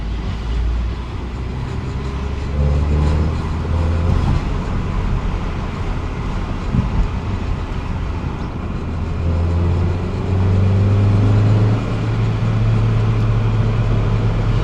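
An Audi 80 B4 Competition engine lugging at low revs, a deep, strained drone that rises and swells in the latter half, heard from inside the car with broad road and rumble noise.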